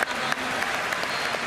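Audience applause fills a hall at a concert with no music, a brisk, even clatter of many hands at close range, with a voice faintly present beneath it.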